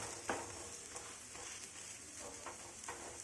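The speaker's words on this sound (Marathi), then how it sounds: "त्याचा प्रेस करून खरपूस छान भाजून घ्यायचा आहे" An aloo palak paratha pressed and roasted crisp on a hot pan: a faint, steady sizzle with soft scraping and pressing sounds, quiet and close.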